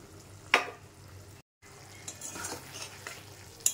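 Beaten yogurt poured into okra cooking in a pan, a sharp splash and clatter followed by soft stirring and faint sizzling, with a short gap of silence midway.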